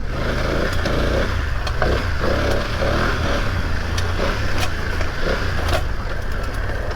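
A BMW F900 GS Enduro motorcycle being ridden off-road gives a constant loud engine drone mixed with heavy wind buffeting. Faint ticks and knocks come through over the rumble, with no talking.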